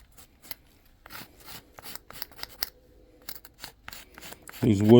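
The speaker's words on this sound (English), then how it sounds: "I typically just kind of scrape this whole side down and scrape all the sand off of there" A tool scrapes burnt sand off a wooden foundry flask after a metal pour, making repeated short rasping strokes up close, with a brief louder sound at the end.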